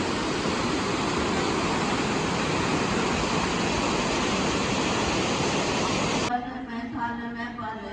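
A loud, constant rushing roar of a fast-flowing flooded river fills the air for several seconds, then cuts off abruptly into quieter background with a voice.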